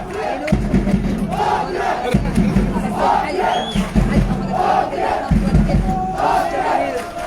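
A large crowd of fans roars and chants in rhythmic bursts, the loud massed voices rising and falling in repeated waves.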